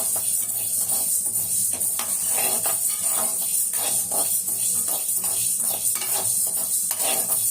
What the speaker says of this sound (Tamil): நல்லா வாசமாக இருக்கும் ஒரு தீயாமல் வறுக்கணும்